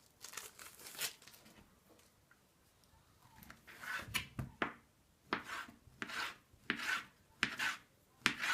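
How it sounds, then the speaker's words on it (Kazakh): A knife slices peeled sausage into long strips on a board, giving a series of crisp, close cuts that start sparse and grow into a steady, irregular rhythm, without talk. "бұны да дәл қияр сияқты осылай ұзынша етіп турап аламыз"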